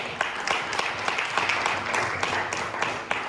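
Worshippers in a church congregation clap for Jesus, a continuous wash of many hands with crisp individual claps standing out, moderately loud and steady throughout, faint voices beneath.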